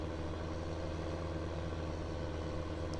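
A steady, low tractor engine drone in Farming Simulator 15 hums throughout, even and unbroken, like a heavy vehicle idling at a constant pitch.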